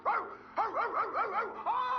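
A man imitates a barking dog with a rapid run of yapping, whining barks, loud and close, repeated in quick bursts over about two seconds.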